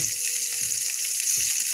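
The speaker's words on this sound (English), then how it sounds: "So my water boiling, I already added my salt to my water." A pot of salted water boils on a home kitchen stove, giving a steady hissing bubble with a few louder pops and gurgles, close by and without talk.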